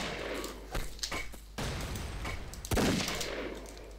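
Rapid gunfire in the blocky FPS game Brick Force, bursts of automatic shots and thuds in dense, loud strings with short breaks, no voices.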